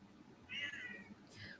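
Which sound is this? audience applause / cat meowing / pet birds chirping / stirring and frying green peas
cat meowing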